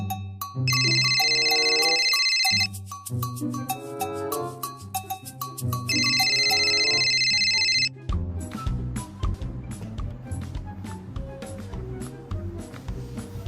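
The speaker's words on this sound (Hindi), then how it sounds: "इतनी देर से तुम्हारा फोन बज रहा है, तुम उठा क्यों नहीं रही?" A mobile phone ringtone rings loudly in two long bursts of bright repeating tones over a musical backing, then music continues with no ringing.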